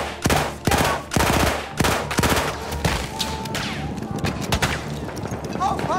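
Enemy machine gun fire in Battlefield 1, loud bursts of rapid shots at the start that thin into scattered gunfire and distant battle noise, with voices talking over it.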